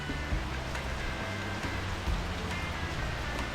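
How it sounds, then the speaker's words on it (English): Steady rain falling outdoors during Hurricane Ida, a soft even hiss of drops on surfaces with faint scattered patters, continuous and fairly quiet with no talk. "Larry loves to play in the rain"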